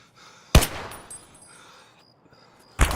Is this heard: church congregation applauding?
no